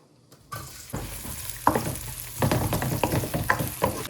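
Onions dropped into hot oil with cumin for pav bhaji burst into a sudden loud sizzle after a short quiet start, then keep frying under clattering stirs, close and with no talking.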